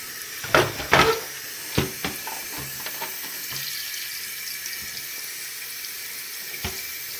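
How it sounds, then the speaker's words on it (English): A kitchen tap runs steadily to rinse soap away, a continuous hiss of water into the sink with a few sharp clinks and splashes early on and near the end. "So, I'm going to start the water again."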